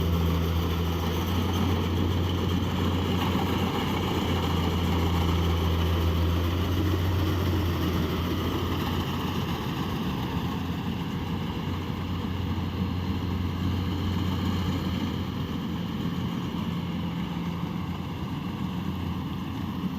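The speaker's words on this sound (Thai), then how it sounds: "รถเกี่ยวคูโบต้านี่ เขาอึดมากเลย ทนมากเลย" A Kubota combine harvester works a rice field at night, its engine a loud, steady, throbbing drone that runs unbroken and close by with no talk over it.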